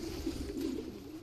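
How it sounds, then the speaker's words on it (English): Collared dove cooing in Minecraft Pocket Edition with the Wings animal addon, a soft low hooting call held over a faint steady background, fairly quiet and alone. "There's a collared dove."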